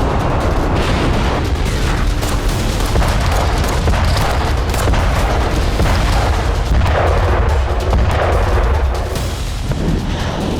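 Artillery shelling in the Russia-Ukraine war: loud, continuous rumbling booms and blasts roll on without a break, dense low thunder with crackling bursts layered on top.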